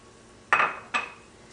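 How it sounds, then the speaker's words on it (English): A utensil scrapes and knocks twice against a pan while oregano and parsley are mixed into a Mexican squash filling, two short clattering strokes close by with quiet pauses around them. "Mix this well."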